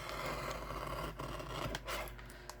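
Scissors cut through paper for a paper-craft card tree, a steady close scraping rasp running for about two seconds with a brief pause in the middle.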